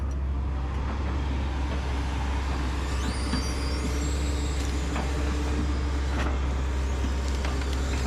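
A Kobelco excavator working nearby as it splits up big old tree stumps, its engine a steady heavy diesel drone with occasional creaks, squeals and knocks of wood giving way, and no talking.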